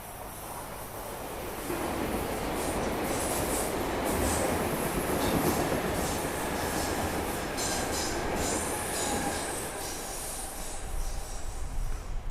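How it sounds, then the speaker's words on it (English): A subway train in Stockholm rumbles past close by, loud and continuous, with high-pitched wheel squeals and rhythmic clatter over the tracks. "sound number 3, which was the passing subway train"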